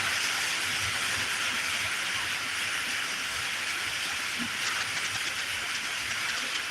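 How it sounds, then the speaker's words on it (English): Heavy rain falling outside a car, a dense, continuous broadband hiss at steady loudness throughout, with no voices. "y'all hear that rain?"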